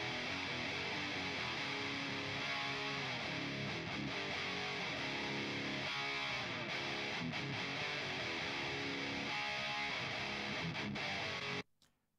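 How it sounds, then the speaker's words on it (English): Guitar played through a 2 Notes lead preamp into a real Mesa 5050 power amp gives a dense, saturated wall of distorted tone that holds steady and loud for about eleven seconds before cutting off abruptly. "This is a 2 Notes lead through a real Mesa 5050 power amp."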